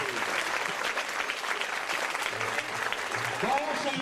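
An audience at a school event in The Hague claps steadily for a few seconds, a dense, continuous patter of many hands, with a voice speaking briefly over it.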